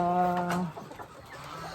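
Chickens on a farm cluck loudly and close at feeding time, with several overlapping calls at first and then quieter scattered clucks in the background.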